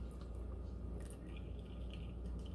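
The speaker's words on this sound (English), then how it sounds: "I have 1 cup and I'm just going to pour it in here." A cup of liquid is poured into a mixing bowl of baking ingredients at home, a soft, quiet trickle with wet squishy drips, close and faint against a low background hum.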